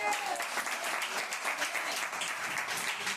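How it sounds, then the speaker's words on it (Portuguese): Congregation applause fills a church during a sermon, a dense, steady wash of many hands clapping for several seconds at moderate loudness, with no pause in the clapping. "Quem pode dar uma linda salva de palmas para Jesus?"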